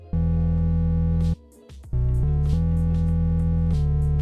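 A sound of the Sprunki character Gray plays alone, loud and steady: a sustained buzzy synth tone that cuts out briefly, then returns with a few stepped pitch changes.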